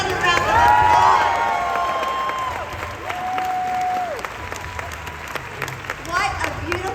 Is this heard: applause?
yes